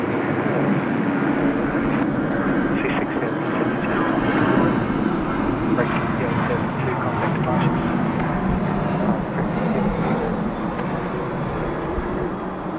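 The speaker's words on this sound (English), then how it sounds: "we'll be able to dedicate the UPS 748 departure to you" UPS Boeing 747-8 freighter departing Sydney Airport, a broad, steady jet roar heard at a distance, with a voice talking over it.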